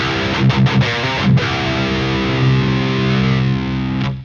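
A heavily overdriven electric guitar through a Diezel VH4 amp rings out with thick, saturated power tube sag distortion, a few choppy strums followed by a long sustained chord that slowly fades.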